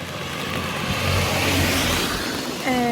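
A car passing at close range, a steady engine and road rush that swells in the middle and then fades, with a brief higher tonal whine near the end.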